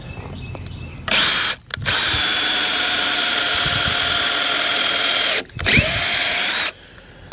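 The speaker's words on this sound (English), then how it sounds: "I use these paddle bits with the auger on them, and they really do a good job" A power drill with auger-tipped paddle bits bores through 6-inch timber for a lumber stacker, in a loud, steady, close grinding whir that runs for several seconds, stops briefly, then resumes in a shorter burst.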